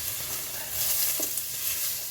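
Smoked lardons and a coarsely chopped onion sizzle in a pan for ratatouille, a steady close frying hiss with a faint stir partway through and no talking.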